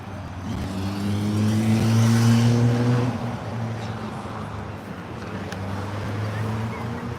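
A car engine revs near a high-end car shop, a low droning tone that swells over the first three seconds and then settles into a steadier idle hum with some wind noise.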